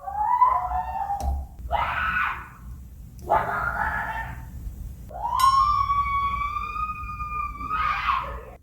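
Screams come from a neighboring motel room at night, loud wailing bursts in several separate outbursts with pauses between, heard through the wall.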